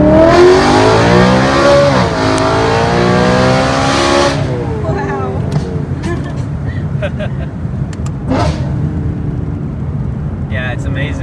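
A BMW E92 M3 with a titanium exhaust and custom double X-pipe revs hard in loud, rising and falling bursts, then drops to a lower rumbling idle with a few short blips, with brief voices near the end.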